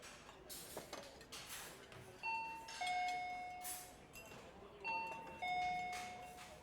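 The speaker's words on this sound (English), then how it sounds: "leaving only the dominant sound of the restaurant doorbell" A two-tone electronic restaurant door chime rings twice, a higher note falling to a lower one with a ringing tail, over faint background noise.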